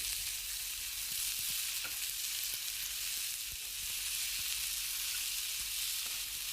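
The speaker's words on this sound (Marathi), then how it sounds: "कांदा एकसारखा परतवायचा आहे, लाल होईपर्यंत भाजायचा आहे." Onion frying in a pan for hotel-style whole masoor, a dense continuous close sizzle with light clicks of stirring throughout, no talk.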